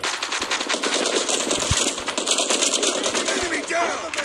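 Loud sustained machine-gun fire in Call of Duty Mobile, a fast continuous rattle with a few heavier thumps mixed in, steady throughout.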